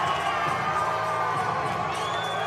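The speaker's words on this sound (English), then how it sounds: "Big crowd support here from Jake. Listen to this crowd." A big crowd cheers and whoops loudly and continuously as an MMA fighter walks into the cage at a regional fight night in Bettendorf, Iowa.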